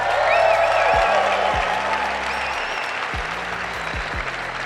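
An audience at a motivational talk claps loudly and continuously, with thumping low bass beats running underneath the applause.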